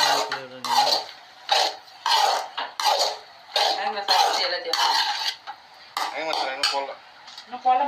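A spoon stirs macaroni in a pan with repeated close, rhythmic scraping strokes in short bursts separated by brief pauses, loud against a quiet background.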